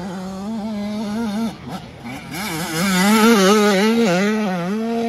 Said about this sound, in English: Just a little bit of rev limiter right there.